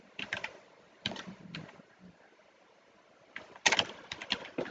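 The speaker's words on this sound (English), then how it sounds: "So I can type this in." A computer keyboard at a trading desk, typed in short clusters of soft, close key clicks separated by pauses, with one louder burst near the end.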